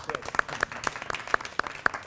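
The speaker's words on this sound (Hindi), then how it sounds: "इस पे अगर तो ताली बजनी चाहिए" A studio audience on a Zara Hatt Kay talk show claps in a brief burst of sharp, scattered hand claps lasting about two seconds, with no voices over it.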